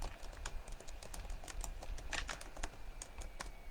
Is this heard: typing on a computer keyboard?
yes